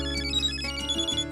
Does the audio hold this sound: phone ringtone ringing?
yes